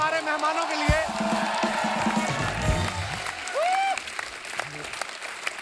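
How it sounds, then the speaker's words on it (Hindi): A television studio audience applauds the guests of a comedy show, a dense burst of clapping and cheers with whistles, heard under an announcer's voice and music. "जोरदार तालियां हमारे मेहमानों के लिए।"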